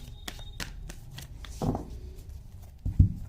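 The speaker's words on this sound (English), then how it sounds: "One more shuffle." Cards riffled and shuffled in a few quick bursts, close and crisp, ending with a firm tap as the deck is squared.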